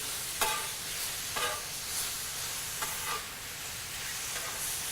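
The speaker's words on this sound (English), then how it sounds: "What I want to do from this point is to fry everything together, stirring and folding to incorporate the paste" Lamb fries on a griddle with tamarind chipotle paste, a steady low sizzle broken by a few faint scraping strokes of stirring and folding.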